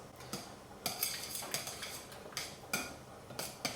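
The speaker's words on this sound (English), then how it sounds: "use a knife to bring it all together, so you're not using your hands too much" A knife clinks and scrapes against a bowl while mixing Cornish pasty dough, producing repeated sharp metallic taps in an irregular rhythm, close and clear with no talking.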